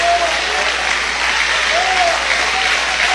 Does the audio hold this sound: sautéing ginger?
no